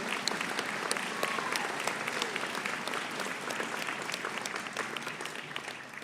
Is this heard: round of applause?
yes